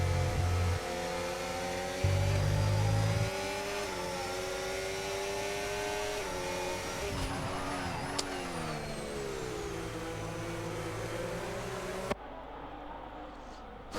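A Formula 1 car in a racing video game, a sustained high whining engine drone that shifts pitch as it slows toward the pits, loud and continuous with brief gear-change steps.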